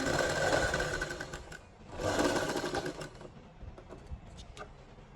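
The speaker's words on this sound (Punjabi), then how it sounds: "ਆਪਾਂ ਡਬਲ ਸਲਾਈ ਕਰਾਂਗੇ" A sewing machine runs steadily as it stitches a double seam on a garment neckline, close and fairly loud, pausing briefly before a second run and then slowing to a few soft clicks.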